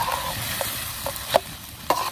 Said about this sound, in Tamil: இப்போ நல்லா மேலே கீழே கலக்கி விட்டுக்கிறோம்.